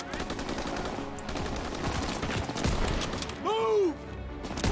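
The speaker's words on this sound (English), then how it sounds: "I'm the sniper. I want to shoot the head" Rapid gunfire from the World War II shooter game Call of Duty: WWII, bursts of automatic fire crackling over game noise with a voice speaking and a brief rising whistle-like tone near the end.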